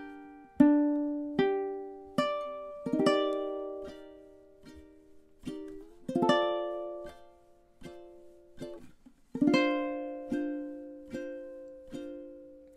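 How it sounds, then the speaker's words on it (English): A ukulele melody with bright, short notes and chords ringing out one after another in a steady, unhurried rhythm, played close and alone. "I really love how this sounds on the ukulele."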